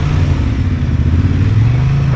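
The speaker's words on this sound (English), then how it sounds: "Get a shot of you coming past on the Transalp." A Honda Transalp 750 motorcycle rides past on an open-day test ride, its mid-pitched engine a steady, fairly close drone for a couple of seconds.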